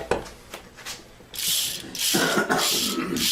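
Low mechanical diode from a Ford 6R80 automatic transmission being turned by hand, giving a few light clicks followed by bursts of fast, close ratcheting as it freewheels.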